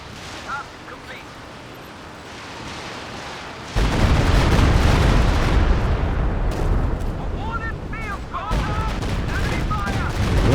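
An artillery barrage in the Company of Heroes 2 strategy game sets in with a sudden heavy roar of shelling and explosions, continuing loud and dense to the end, with a voice heard over the opening quieter stretch.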